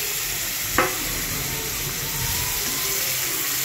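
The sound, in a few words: spices frying in oil in a wok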